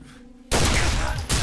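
Gunfire in the horror game Condemned, a sudden loud burst of shots that cuts in after a quiet stretch and continues to the end.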